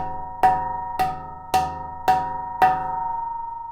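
Low notes on a handpan turned upside down, five struck tones about half a second apart, each a ringing metallic ping with a bright attack and a sustained hum, clear and close with no talk.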